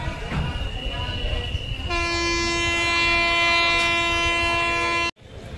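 A passenger train pulls out of Kurnool station on a monsoon run toward Goa, a loud, steady, multi-tone horn blast sounding for about three seconds over a rumbling carriage background before cutting off sharply.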